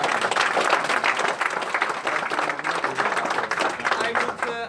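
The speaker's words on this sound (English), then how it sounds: "Let's have applause for this." Audience at a smart manufacturing and robotics pilot event in Delft claps steadily, a dense sustained applause with voices mixed in, tapering slightly near the end.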